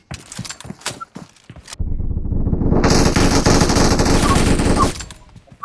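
Sustained rapid automatic gunfire from a 3v3 shooting video game, loud and continuous for about three seconds after a few scattered shots and clicks.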